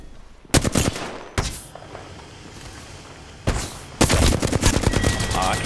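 Bursts of rapid automatic fire from a turbocharged Havoc energy rifle in the Apex Legends battle royale game, several sharp volleys separated by pauses, the last burst longer and sustained.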